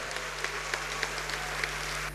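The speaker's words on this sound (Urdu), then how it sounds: "آپ کی بھرپور تالیوں میں لیڈیز اینڈ جینٹلمن" An audience applauds at a youth inauguration ceremony attended by Pakistan's prime minister, a steady wash of clapping from a large crowd at middle distance, with a low hum underneath, cutting off near the end.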